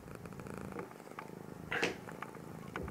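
A house cat purrs softly and continuously at close range, a low rumbling drone with one brief louder rustle partway through.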